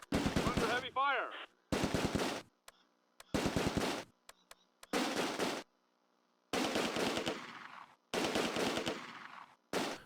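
Machine-gun and rifle fire from the World War II strategy game Close Combat A Bridge Too Far crackle in rapid bursts, loud and close, with short silent gaps between volleys.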